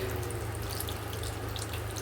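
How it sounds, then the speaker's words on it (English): A small tabletop water fountain running, giving a soft, continuous trickle and light splashing with a low steady hum, alone and fairly quiet. "She gave me a little water fountain here,"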